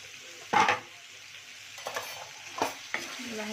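A spoon stirring turmeric, red chilli powder and garam masala into sweet-sour raw mango pickle, giving several scraping, clinking strokes against a pot over a faint background sizzle, close and without speech.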